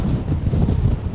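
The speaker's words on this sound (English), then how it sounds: "You can see just how windy it is out here." Strong wind buffets the microphone outdoors during a march of around 1,000 people in Sackets Harbor, a steady low rumbling roar with gusty fluctuations and no talk.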